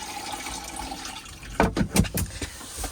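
Water runs into the washroom basin of an Auto-Trail V-Line 634 motorhome, a soft, steady trickle that gives way to a few louder splashing gushes near the end.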